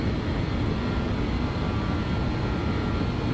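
A BAe 146 airliner climbing at 250 knots in the Just Flight 146 Professional flight simulator, its engines giving a steady, even, continuous drone with no break or change.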